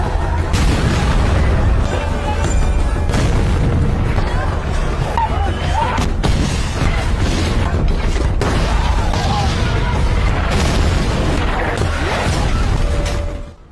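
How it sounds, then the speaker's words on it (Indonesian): Loud, continuous booming blasts and crashes from explosions destroying a village roll through the whole scene, with dense rumbling and scattered voices shouting beneath the chaos. "Ledakan mulai merusak desa."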